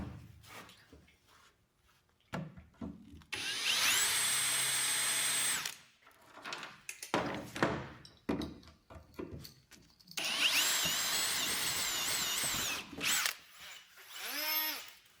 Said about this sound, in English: Drill a 3/16" pilot hole using the 7/16" bolts from step 2 as locator pins.